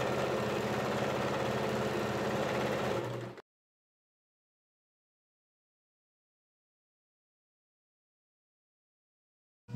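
An electric sewing machine hums steadily for about three seconds while hemming the double-folded bottom edge of a child's Anarkali lehenga lining, then falls completely silent.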